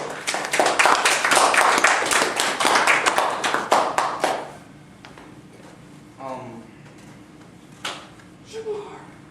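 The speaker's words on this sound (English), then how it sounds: "My upcoming authors, please give him a round of applause as he goes to the front of the room." A room of people claps for a student heading to the front, a dense, loud burst of applause lasting about four seconds before it stops abruptly, followed by quieter room noise with a few scattered sounds.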